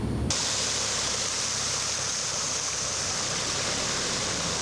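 Floodwater rushes through a flooded street in Italy, where the water reaches at least ankle height, a loud, constant roaring hiss like a torrent that runs without a break for the whole stretch.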